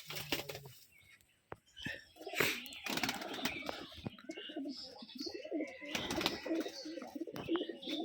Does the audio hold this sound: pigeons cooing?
yes